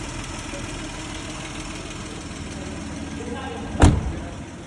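A used Kia Bongo or Hyundai Porter engine idles with a steady, even rumble and light knocking texture, close and continuous, interrupted near the end by a brief sharp bang.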